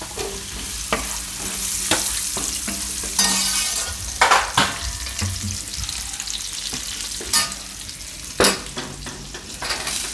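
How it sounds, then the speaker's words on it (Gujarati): Carrots and chillies fry in hot oil for a Gujarati carrot-tomato curry, a continuous close sizzle broken by repeated clanks and scrapes of a spoon stirring against the pan, with no talking. "ગાજર ને મરચાં બે નાખી દઈશું આપણે."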